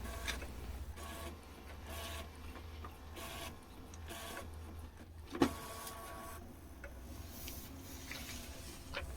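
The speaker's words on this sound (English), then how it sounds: "the automatic document feeder will pull the sheet to copy in the size selected in the settings" An Epson L6270 printer's automatic document feeder whirs and hums steadily throughout, with one sharp click near the middle as a sheet is drawn through to copy at legal size.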